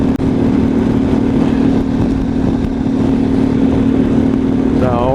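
A Harley-Davidson motorcycle drones steadily along a road in Illinois on a November trip, its engine a loud, close, constant rumble with wind buffeting and no pause.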